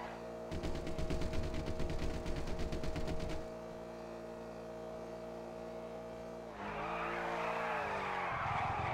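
A car in the GTA RP video game drives with a steady engine drone, broken by a rapid stuttering burst early on and a squealing skid near the end that shifts the engine tone.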